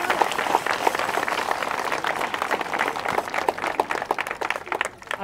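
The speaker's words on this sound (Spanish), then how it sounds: "Le damos un aplauso al señor Manuel" Dense, sustained applause from a large crowd honoring Señor Manuel at a community gathering, steady clapping throughout that thins slightly at the very end.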